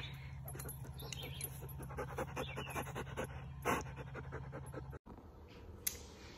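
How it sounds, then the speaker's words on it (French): Marley the dog pants in a steady rapid rhythm close by, quick breaths repeating for several seconds with a low hum underneath, then a sudden brief cut and quieter huffs afterward. "Donc, vous avez vu mon chien Marley."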